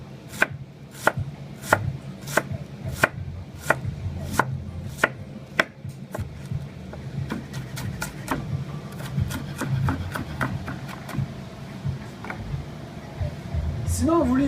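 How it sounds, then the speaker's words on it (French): A knife finely chopping an onion on a cutting board, with quick rhythmic knocks in bursts that slow into scattered, softer taps. A voice talks over parts of it, and it sounds close. "C'est ce qui fait qu'on peut venir et faire hacher un oignon très finement comme ça"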